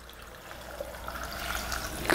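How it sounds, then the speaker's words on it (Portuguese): Water poured from a container into a pot for a homemade fennel herbal remedy drink, a soft steady liquid trickle throughout, fairly quiet, with a brief louder splash near the end. "Vou pôr um litro de água aqui, ó."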